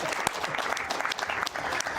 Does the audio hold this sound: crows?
no